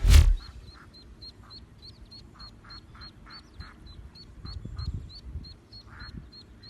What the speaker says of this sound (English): Oh, lovely little baby duck.